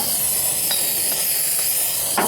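Continuous hiss of spray paint misting a light coat onto a Ford Ranger floor pan patch, a steady close airy spray with a few faint clicks and a brief stronger burst at the end.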